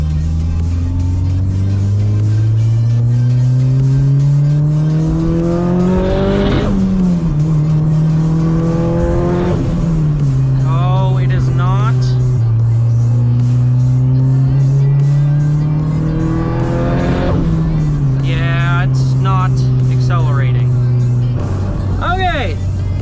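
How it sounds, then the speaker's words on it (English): Mitsubishi Evo engine accelerating hard through several gear pulls, loud and close, revs climbing and dropping repeatedly with shifts, a turbo whistle and flutter audible near the end; speech occurs over parts of it. "Alright, let's see if it does any acceleration any better."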